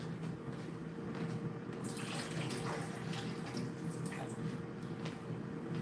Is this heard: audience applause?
no